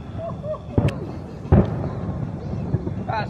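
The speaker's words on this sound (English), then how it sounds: "So the people of Bedworth put on a fireworks display for me and Dean catching PBs." Two sharp booming bursts of fireworks going off at a distance over a lake at a carp fishing spot, with faint crackle and whistling in between over a low background rumble.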